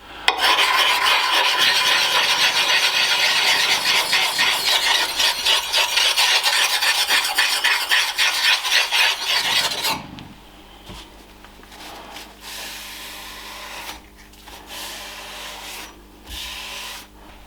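Sharpening and reprofiling the blade of a Rinaldi axe, a loud harsh rhythmic rasping of strokes for about ten seconds, then quieter scattered scraping and handling sounds.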